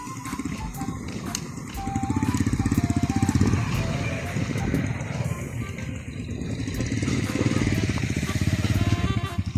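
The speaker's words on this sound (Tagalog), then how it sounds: "dito namin ipaparking yung motor po namin sa kubo" Motorcycle engine idling and revving softly while being parked beside a hut, a continuous rough putter with slight swells in loudness throughout.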